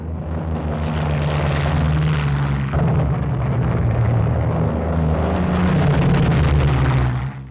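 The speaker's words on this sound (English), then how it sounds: "Planes rendezvous preparatory to leaving for the target area. Hellcat fighters, Avenger torpedo planes, and Helldiver bombers." WWII Hellcat fighters, Avenger torpedo planes and Helldiver bombers fly together at a 1944 rendezvous, making a loud, steady, continuous engine drone that fills the whole stretch without pause.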